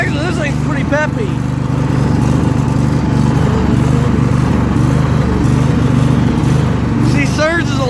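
A Craftsman V-twin lawn tractor engine built for all-terrain competition runs steadily and loudly nearby, with a constant droning idle throughout and a few faint high chirps over it.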